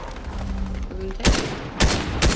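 Gunfire from a gun in a video game: three sharp, loud shots spaced about half a second apart in the second half, following a stretch of quieter game ambience.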